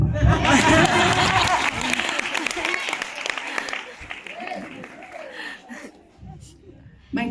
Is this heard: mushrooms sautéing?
no